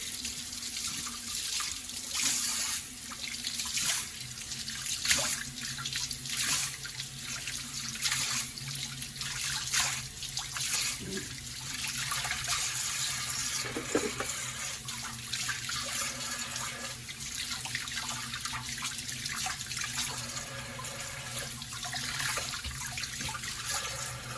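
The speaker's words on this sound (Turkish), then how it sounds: "Şimdi biraz sıcak suyu açalım." Hot water runs from a tap into a clogged bathroom sink, a steady splashing stream with gurgles and drips for over twenty seconds, close and continuous.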